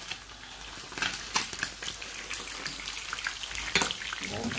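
Food fries in a pan, a dense close crackling sizzle with irregular sharper pops and occasional stirring scrapes, steady at moderate level without speech.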